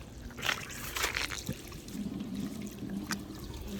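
A homemade 5-gallon toilet drains slowly, making a faint, steady trickling and gurgling of water close by.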